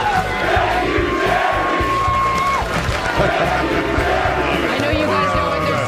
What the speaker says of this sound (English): The Green Bay Packer faithful at Lambeau chanting